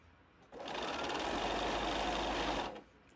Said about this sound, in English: I'm now going to sew around all 4 edges.